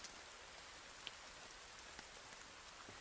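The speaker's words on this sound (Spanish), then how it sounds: "Tío, no para de llover, qué asco." Steady rain falls in the survival video game The Forest, a soft, even hiss with scattered faint drop ticks, continuous and fairly quiet with no voices.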